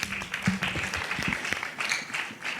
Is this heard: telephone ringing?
no